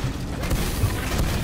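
A loud, dense boom and rumble from a sticky bomb jump explosion in Team Fortress 2, filling the short moment with low crashing energy and no speech.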